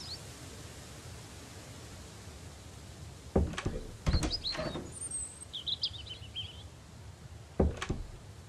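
Birds sing in the ambient soundscape of the survival video game Mist Survival, with scattered chirps and short calls over a steady hiss, plus a few sharp knocks.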